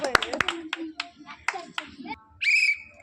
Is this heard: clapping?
yes